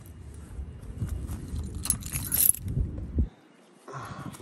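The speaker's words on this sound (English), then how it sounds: "Those are my keys." Keys jangle and clink in a hand through the first few seconds, close and moderately loud with rustling handling, then drop to near silence before a brief soft noise at the end.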